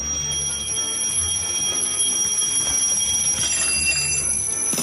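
An alarm clock rings steadily with a piercing, sustained high-pitched metallic tone throughout, fairly loud over a low background rumble.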